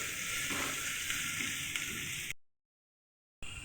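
Banana pieces frying in a hot pan, a steady close sizzle with faint stirring that cuts to silence partway through and then resumes briefly.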